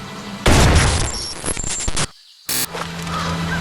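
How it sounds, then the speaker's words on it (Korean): A gunshot in a rural backyard where deer are being hunted: one loud, sharp blast followed by a decaying crackle, then a brief second burst after a pause. "그때 갑자기 들려온 총성과 함께 나타난 한 남자."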